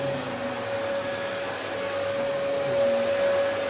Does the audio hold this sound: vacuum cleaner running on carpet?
yes